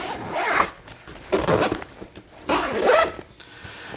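A heavy metal zipper on a Tacticon Armament padded rifle bag is pulled in three long rasping strokes, close and loud, with short pauses between.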